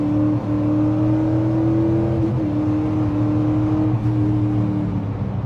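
A Grand Marquis with a two-valve V8 revs hard while its rear tires slide, a loud, close engine drone holding a steady high pitch, dipping briefly midway before climbing again, with no talk over it.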